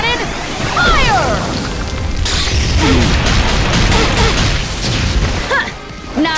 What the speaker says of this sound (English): Endurance cannon, fire!